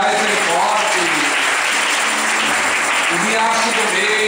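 A crowd claps loudly and continuously at a rural community gathering in São Mamede, Paraíba, with a voice speaking over the applause at the start and again near the end.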